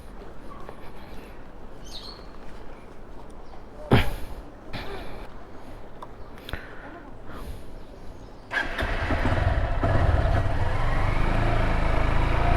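A motorcycle engine starts rumbling partway through, joined by steady loud road and wind noise, after a quieter stretch with faint bird chirps.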